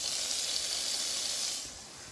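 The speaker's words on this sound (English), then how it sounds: "I'm gonna start cooking the bacon now. So it's starting to sizzle." Steady, bright hiss of bacon sizzling in a hot pan, continuous and fairly close, fading slightly toward the end.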